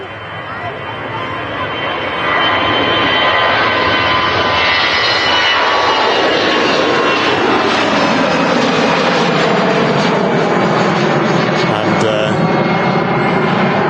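Airliner jet engines roar during a takeoff at Manchester Airport, building from a rumble to a loud, sustained broadband roar that holds steady for several seconds, with no voices over it.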